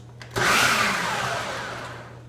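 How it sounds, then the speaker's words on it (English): Blender pulsing raw cauliflower florets into rice gives one loud whirring, chopping burst that fades slowly, with no talk over it. "So you should have a pulse setting on your blender."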